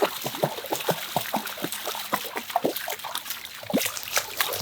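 Creek water trickles and splashes nearby in a steady, soft babble on a homestead outdoors, with small irregular drips and splatters throughout and no talk.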